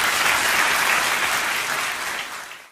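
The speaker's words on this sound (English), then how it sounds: "Welcome him with a round of applause." A large audience gives a dense, loud round of applause at an audition event, steady for about two seconds before fading out.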